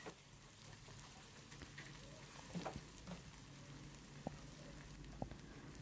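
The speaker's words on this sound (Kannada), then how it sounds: "ನೋಡಿ, ಚೆನ್ನಾಗಿ ಫ್ರೈ ಆಗ್ತಾ ಇದೆ." Onions and urad dal fry in a pan while preparing sajjige, a low steady sizzle running throughout with a few light scrapes and clicks of stirring, fairly faint and close.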